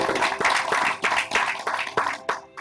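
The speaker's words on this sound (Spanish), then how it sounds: "Un fuerte aplauso al Señor, iglesia." A church congregation claps loudly in quick, dense rhythm, the applause filling the room close by and steady for a couple of seconds before tapering at the end.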